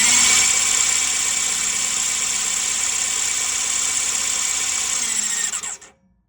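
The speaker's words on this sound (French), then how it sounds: "si je fais tourner le démarreur" A Yamaha R6 motorcycle's starter motor cranks continuously after a crash, with the oil pump being re-primed, producing a loud, steady whirring drone that runs for about five seconds, then winds down and stops; no one speaks.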